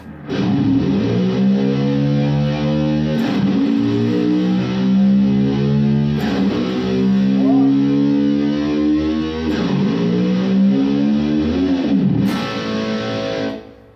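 Overdriven electric guitar imitating a motorcycle, with whammy-bar bends for a rock-style effect: loud, continuous distorted revving tones that swell and dip in several engine-like surges over fourteen seconds, heard alone.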